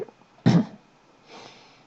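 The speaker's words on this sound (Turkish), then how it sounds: "Kusura bakmayın. Öksürdük." A single sharp cough from a man, close and fairly loud, followed by a faint breathy exhale in a quiet room.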